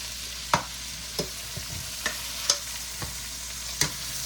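Peppers and onions being tossed and stirred in a hot pan, with a soft steady sizzle broken by sharp scraping clicks of a utensil against the pan bottom every half second or so.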